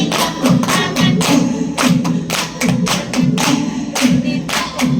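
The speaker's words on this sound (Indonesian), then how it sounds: "Mana tepuk tanganmu? Ini tepuk tanganku." Storytelling workshop group clapping in a rhythmic chant pattern, with repeated bursts of several sharp claps, short pauses between them, and voices chanting along underneath.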